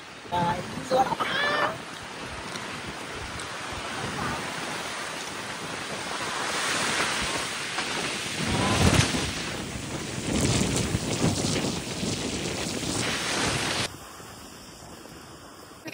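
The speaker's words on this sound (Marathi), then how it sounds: "तुम्ही बघू शकता वारा किती सुटला इथे" Strong wind buffets the microphone at a hilltop viewpoint in Kudpan, Maharashtra, a steady broadband roar with gusts swelling around the middle and easing near the end.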